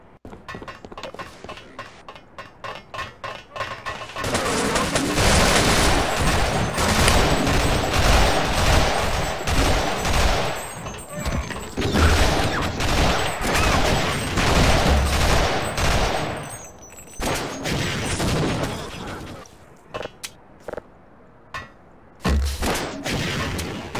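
Sustained rapid gunfire in the Half-Life co-op video game, dense bursts of automatic shots and booming impacts filling most of the stretch, loud and continuous before breaking into short separate bursts near the end.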